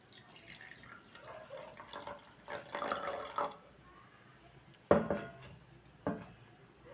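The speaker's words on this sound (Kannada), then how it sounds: "ಬೆಚ್ಚಗಿನ ನೀರನ್ನು ಬೀಕರ್ನ ಒಳಭಾಗಕ್ಕೆ ಹಾಕಬೇಕು." Warm water poured into a glass beaker, a soft low splashing trickle with light glassy clinks and a couple of sharper knocks, fairly quiet and close.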